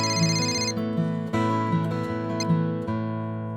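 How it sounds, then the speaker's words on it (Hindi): A telephone rings with a bright, repeating electronic ringtone melody, loud and close, cycling through several short phrases with no voices over it. "प्यारे जी का फोन आ रहा है, मैं बात करके आती हूँ।"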